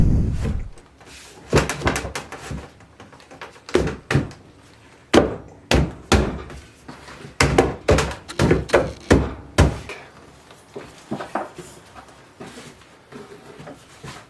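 A wooden peg is hammered through a freshly glued mailbox joint, a string of sharp, loud knocks in irregular bursts with short pauses, followed by lighter, quicker taps toward the end.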